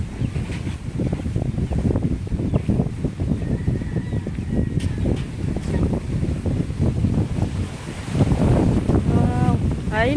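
Strong wind buffets the microphone in constant rough gusts, with a brief voice near the end.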